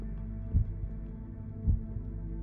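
Two deep, thudding heartbeat pulses in a video game, spaced about a second apart over a low ambient hum, with no talking.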